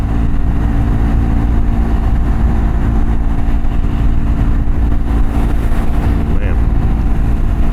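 A Triumph Scrambler 400X motorcycle engine hums steadily at high revs on a test ride, a continuous loud drone mixed with wind rush, with a rider talking over it.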